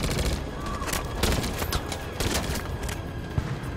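Sustained gunfire in Detroit: Become Human on PS5 rattles throughout in loud, overlapping volleys, a dense battle din with sharp shot transients and no clear pauses.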